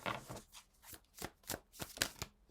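Tarot cards are shuffled by hand in quick, close riffling bursts, about six crisp rustles in steady rhythm, quiet and alone.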